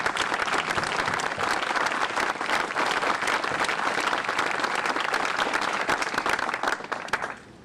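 An audience at the Actors Home in Englewood, New Jersey breaks into sustained applause, a dense, even wash of many hands clapping at steady loudness before fading at the end.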